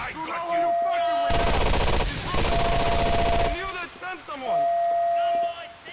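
A loud burst of rapid automatic gunfire lasting about two seconds, from the video game GTA 4 The Ballad of Gay Tony, comes between stretches of game voices and tones, followed by a shorter trailing volley.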